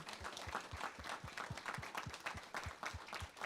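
A small dinner audience gives a round of applause for a panel and the cooks, a faint, steady patter of hand claps lasting a few seconds.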